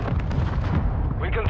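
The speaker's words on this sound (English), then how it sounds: "Mortar strike inbound." Mortar strike explosions in Call of Duty Modern Warfare II, a rapid string of heavy rumbling impacts close together, with a brief voice near the end.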